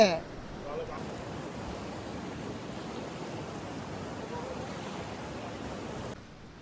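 Polluru waterfall near Maredumilli roars as a constant broadband rush of falling water, steady and full from start to finish, with a short sharp sound at the very beginning.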